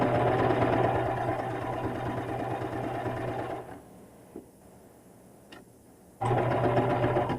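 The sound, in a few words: serger overlock machine sewing a fabric zipper pouch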